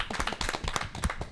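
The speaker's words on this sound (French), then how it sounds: "peut applaudir Anna parce que son travail est vraiment compliqué" Studio audience clapping briefly in a French TV motoring show, a short burst of quick, fairly faint, irregular handclaps with no talk.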